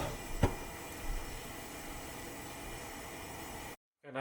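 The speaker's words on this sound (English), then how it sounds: "now the water is boiling" A pot of water for cooking rice boils on the heat with a steady, soft hissing rumble and a faint bubbling, a single knock early on, before the sound cuts off abruptly.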